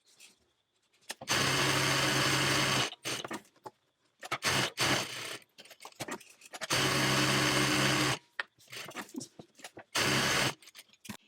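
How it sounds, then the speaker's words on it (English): A sewing machine bastes around the edges of fabric panels for a tote bag. It runs in three loud, close bursts of one to two seconds each, separated by quiet gaps and short handling noises. "we're going to head over to our sewing machine and we're going to baste all around the edges"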